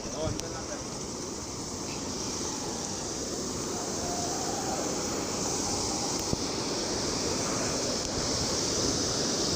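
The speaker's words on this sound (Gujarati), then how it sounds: "ચાલ ધોધ કેવો સંભળાય." Steady, dense roar of rushing water from a waterfall heard close by, with water flowing over a road, broad and constant throughout, with no talking.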